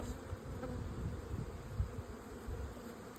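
Swarm of bees humming around an opened hive, a continuous low droning buzz with small rises as individual bees pass near, fairly quiet and steady with no voices.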